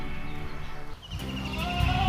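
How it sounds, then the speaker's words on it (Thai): Several young goats bleat close by in a rural yard with old car tires, their cries overlapping and rising toward the end. "นี่ครับแพะตัวเล็กๆ เยอะแยะเลยนะครับ"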